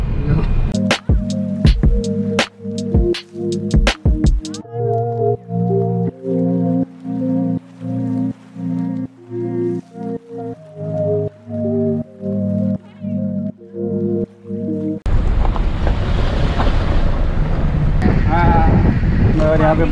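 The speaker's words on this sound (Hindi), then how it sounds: "गाइस हम लोग जा रहे हैं नदी में गाड़ी लेके।" A car driving through a shallow mountain river: steady engine rumble and water churning against the car, with rhythmic surges and clatters as it bumps through, then a harsher rushing wash near the end, loud and close.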